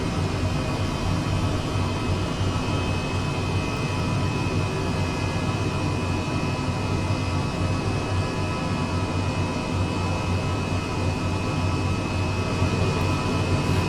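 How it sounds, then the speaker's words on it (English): Twin engines of an H135 helicopter idling in Microsoft Flight Simulator 2020, a steady, dense whine and rumble with a thin high tone running unchanged throughout, no voices. "Both engines are on idle."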